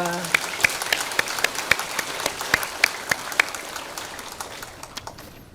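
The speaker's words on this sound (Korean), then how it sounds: "박수하겠습니다" A church congregation at a Korean early-morning prayer meeting claps, a sparse scattering of distinct hand claps with a few louder, closer ones standing out, thinning and fading by the end.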